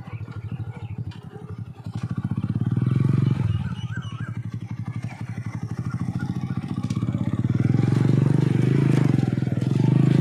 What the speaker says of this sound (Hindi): मैं मोटरसाइकिल भी साथ चला रहा हूँ और साथ गुजर भी रहा हूँ